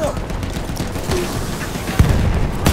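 Battlefield 1 battle noise with a hand grenade blast and steady rattling gunfire, a continuous dense crackle broken by a sharp loud boom near the end.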